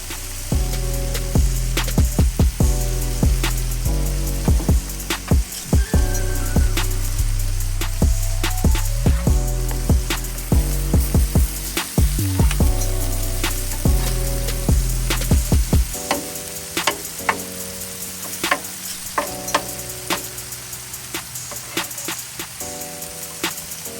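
Sauteed jalapenos and onions sizzle on a Blackstone griddle during a bacon jalapeno smash burger cook, a loud steady frying hiss broken by frequent sharp spatula scrapes and taps that thin out as the food comes off the hot surface.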